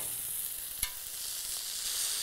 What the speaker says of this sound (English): Sausages are cooked at this stage.